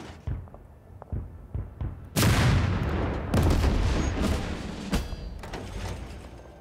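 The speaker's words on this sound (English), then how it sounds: "Now let's use our support guns." Support guns opening fire in the tank strategy game Total Tank General during a Soviet counteroffensive near Moscow: a few sharp thuds, then a loud sustained barrage of booming shots with rumbling tails, fading near the end.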